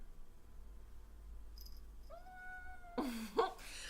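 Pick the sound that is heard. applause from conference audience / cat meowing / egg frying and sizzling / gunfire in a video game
cat meowing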